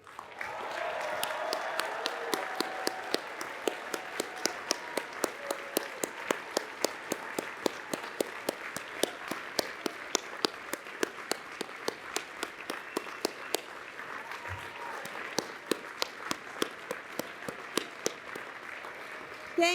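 Sustained applause from a large audience at a university commencement ceremony, continuous dense clapping lasting throughout with a steady crowd wash and a few faint voices beneath.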